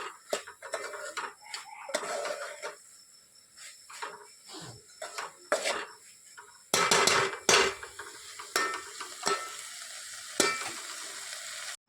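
Kantola curry with gathiya being stirred in a pan, with sizzling frying, scraping spoon strokes and sharp clanks of metal against the pan, close and uneven, without talk.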